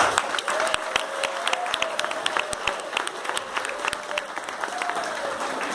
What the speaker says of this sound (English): Please give a big cheer for Mr. Hardy, Mrs. Chinny and Ms. Peaches.